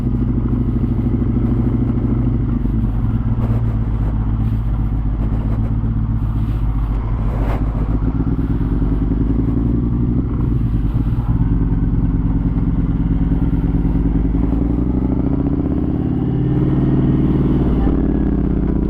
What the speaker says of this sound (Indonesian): Saya baru pertama kali nyoba Yamaha MT-01 ini.